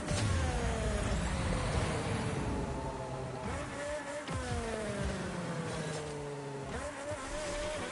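A car drifting in a racing video game, its engine whining steadily with tonal shifts as revs rise and fall, loud and continuous throughout with no talk.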